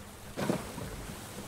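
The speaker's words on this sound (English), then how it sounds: "The rain is coming." A brief distant rumble of thunder rolls over a soft steady hiss of rain on a tropical island in the survival game Stranded Deep.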